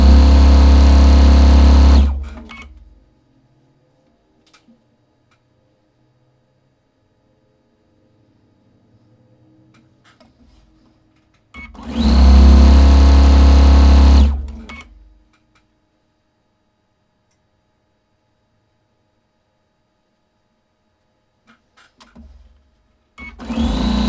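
A sewing machine stitches fabric for a lattice quilt in two loud, steady bursts of a few seconds each, separated by long quiet pauses with faint handling noises, and a third run starts at the end.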